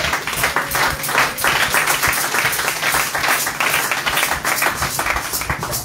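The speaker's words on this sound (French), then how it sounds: "Acclamons pour Jésus." Church congregation at a wedding consecration breaking into sustained, loud applause, dense overlapping claps filling the room with scattered cheers throughout.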